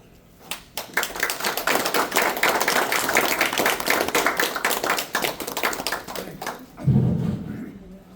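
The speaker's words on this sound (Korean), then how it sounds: "연단에 나오실 때 큰 박수로 맞아주시기 바랍니다." Audience clapping to welcome a lecturer to the podium at a forum lecture, a dense, steady round of applause from a hall full of people, building quickly and holding before a low thump near the end.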